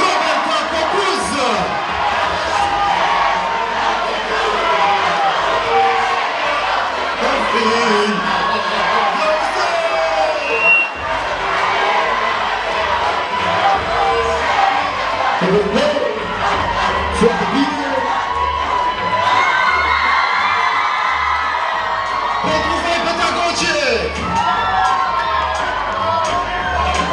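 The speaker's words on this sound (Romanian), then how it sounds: "Ia să vedem încă o dată, cu aplauzele foarte furtunoase ale voastre!" A large crowd cheers and shouts with whoops at a school ball held by a pedagogical high school, a loud, dense roar sustained throughout with no break.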